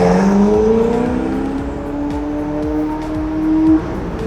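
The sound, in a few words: Ferrari sports car with Novitec exhaust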